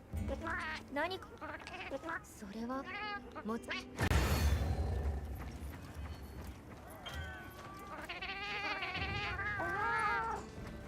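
A pet cat meows several times during a Monster Hunter Wilds game stream, short rising cries close to the mic over game music and background sounds, with a louder burst of noise partway through.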